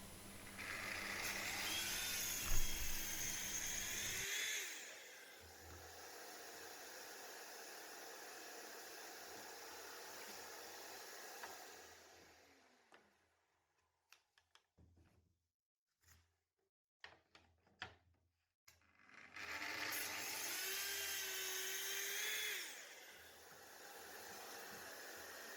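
A Festool track saw cutting a larger slice off a board: the motor whines up and cuts steadily for several seconds, then stops, with clicks and handling knocks before the saw spins up loud again.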